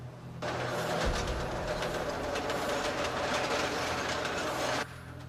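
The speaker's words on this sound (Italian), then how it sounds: "Il treno incrocia un nodo dopo una curva" A train rolls steadily along the rails with a continuous broad rumble and faint clatter, starting and ending abruptly as a steady loud block of sound with no talk.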